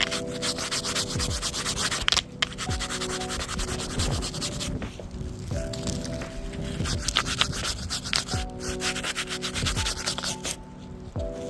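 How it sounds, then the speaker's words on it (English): Brush scrubbing along an O-ring chain on a dirt bike, a steady close rasping rub in repeated back-and-forth strokes with brief pauses between passes. "you just slide it on the chain like this"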